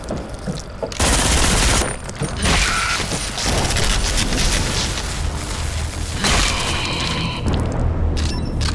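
A close-range weapon blasts away in the video game Selaco, with dense bursts of booming shots and rapid fire, loud and close, pausing briefly between volleys.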